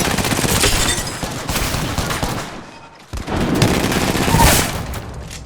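Sustained rapid gunfire in Apex Legends, a dense loud fusillade of automatic shots running for several seconds with a brief lull near the middle before the volley resumes.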